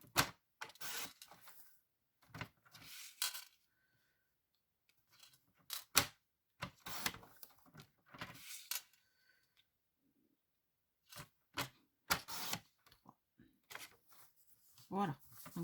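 Scissors or a paper trimmer snip pieces of paper for a mini album of pockets, short crisp cuts and rustles arriving in scattered clusters between quiet gaps, with soft talk at times.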